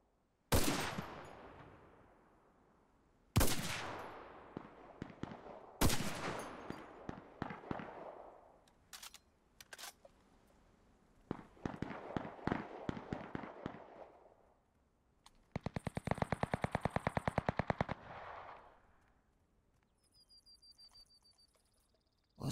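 Repeated bursts of gunfire in the video game Cuisine Royale: sharp single shots, then rapid volleys and a sustained automatic stretch, separated by short silences, with no talking.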